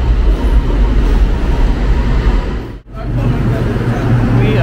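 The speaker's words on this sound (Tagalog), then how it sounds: "The train is here." Metro train arriving at PWTC station in Kuala Lumpur, a loud rumbling rush with a brief dip partway, then a rising whine as it pulls in close.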